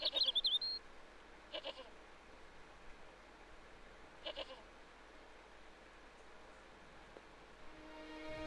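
A goat in the video game Broken Sword: Shadow of the Templars Reforged bleats a few times, the first cries loudest, with two fainter, shorter bleats following over quiet ambient game noise.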